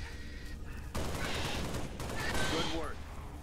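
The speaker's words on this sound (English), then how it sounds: "we just shot innocent animals" Rapid gunfire in Halo Reach as players shoot animals, with a dense burst of shots running continuously and loud after a brief quieter opening, and a crow-like call faintly mixed in.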